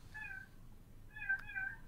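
A small cat meows twice, close and clear, with a short pause between the two calls and a faint background hum.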